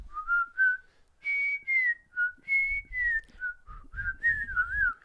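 A person whistles a short, wavering melody of several phrases with brief pauses between them, close and clear, with faint low rustling in the background.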